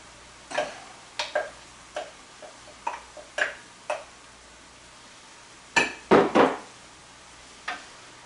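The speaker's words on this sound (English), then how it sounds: "I'll go ahead and add my celery and onions to this." Celery and onions go into a pan for moussaka, with scattered light clicks and taps of food and utensil against the pan, then a denser cluster of clatter near the end; no talking.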